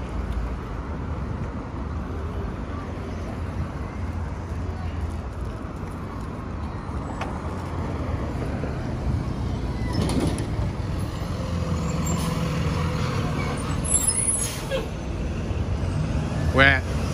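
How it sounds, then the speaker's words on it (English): Street traffic rumbles beside the BX19 bus stop at Southern Boulevard in the Bronx, New York: a steady low hum of trucks, buses and cars with a rising, hissing pass near the end, heard from a sidewalk. "We're next to the BX19 bus stop."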